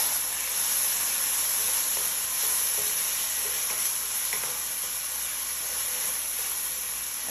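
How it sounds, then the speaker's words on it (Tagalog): Fish and sliced tomato being stirred in a frying pan with tamarind and spices, giving a steady, loud sizzle and hiss of hot oil throughout, with faint scraping of stirring and no talking. "At i-mix ko lang siya ng konti. At add ko na rin itong hiniwa kong tomato."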